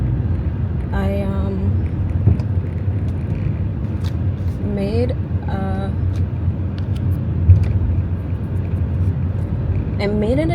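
A car creeps along slowly with a steady low engine rumble, passing vehicles and occasional brake or horn tones around it, and someone speaks intermittently over the traffic noise.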